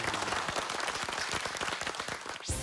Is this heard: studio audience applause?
yes